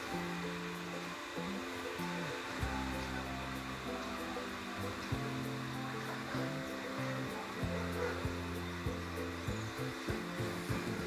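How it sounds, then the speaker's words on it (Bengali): Potatoes fry in a pan with salt and turmeric, giving a soft steady sizzle under a low, irregular droning hum, fairly quiet and close, with no talking. "এবার নুন হলুদ দিয়ে আলুটাকে একটু ভেজে নেব"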